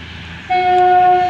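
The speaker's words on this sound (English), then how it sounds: "Horn. We got horn." A train horn sounds at Basingstoke railway station, starting abruptly as a loud, steady, sustained tone that continues to the end over low station rumble.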